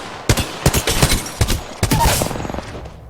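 Rapid, sharp G7 Scout rifle shots in Apex Legends, loud and close, fired in quick bursts of roughly ten cracks spread across the moment, with the last shot trailing into a brief echoing tail.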